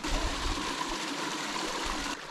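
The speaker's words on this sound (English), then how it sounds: "I'm just drawn to the sound of water." Water flows steadily in a stream near Tanque Verde Falls outside Tucson, Arizona, a continuous close rushing and trickling with no voices.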